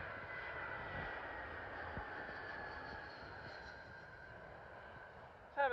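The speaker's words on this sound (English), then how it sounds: "Arrived in now is a Airbus A320 with British Airways from Paris Charles de Gaulle." British Airways Airbus A320 arriving at London Heathrow from Paris Charles de Gaulle, a steady broad jet engine roar sustained throughout at moderate distance, with a brief louder burst at the very end.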